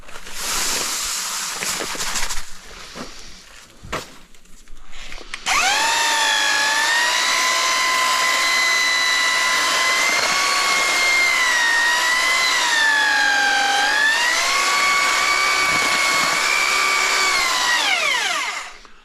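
Electric power mixer churning glue and screed mud in a bucket, first a few brief bursts and knocks, then a loud steady whining drone with slight pitch wavers for about thirteen seconds before stopping.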